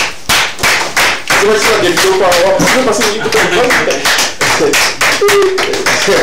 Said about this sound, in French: Merci d'applaudir pour le styliste Beau Leilo